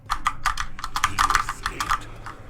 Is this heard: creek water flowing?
no